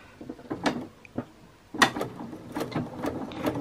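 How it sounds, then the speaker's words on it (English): A home sewing machine backstitches back and forth over a string, giving quiet, close bursts of mechanical clatter and short whirring runs separated by brief pauses, with no talk. "just sew over the string backwards and forwards, really securing that in place"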